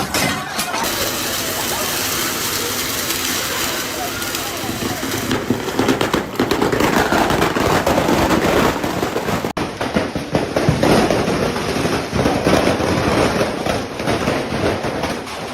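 Fireworks going off inside a burning fireworks shop in Malaysia, a dense, continuous barrage of loud crackling bangs and pops that runs throughout, with voices mixed in.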